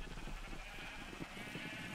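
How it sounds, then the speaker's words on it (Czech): Sheep bleating in the video game Minecraft, a few soft, wavering calls spread over a steady background hum, moderately distant and alone without talk. "Ovce nemají co žrát už."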